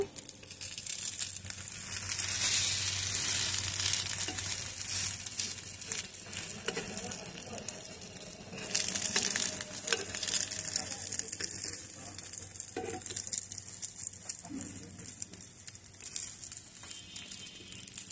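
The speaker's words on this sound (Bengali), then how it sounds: "ভালো করে এপিট উপিট ভেজে নেব।" An egg fries in a hot pan with a steady, close sizzle, spiced with crackles and scraping as it is turned over and over to brown both sides.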